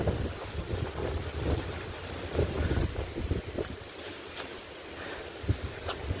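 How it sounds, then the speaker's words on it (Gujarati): Strong mountain wind on Girnar near the Ambaji temple, Junagadh, roars and buffets the microphone in steady gusts, with a few sharp knocks and no voices. "પવન દુનિયાનો છે"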